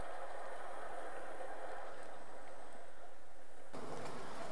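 An IC2 double-deck intercity train pulls into the platform at Harstadt station, giving a steady broadband rumble and rail hiss that holds constant before its character shifts near the end.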